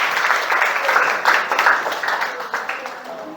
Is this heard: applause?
yes